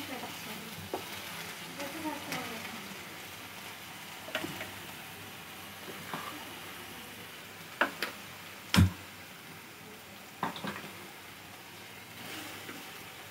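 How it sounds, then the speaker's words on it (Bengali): Food frying in a pan during home cooking of a Bengali dish, a soft continuous sizzle with occasional stirring scrapes and sharp utensil taps, fairly quiet. "এবার আমি ওইটা ভাজছি"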